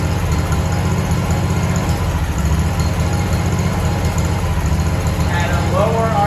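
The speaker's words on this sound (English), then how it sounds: "That's a misfire." Lawn mower engine running rough at lower RPM with a misfire that loses power in tall grass or with blades engaged, a steady loud chugging drone close by with faint talk.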